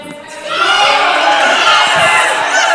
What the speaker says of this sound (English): Crowd's getting fired up now for Ellis's absolutely fired 262.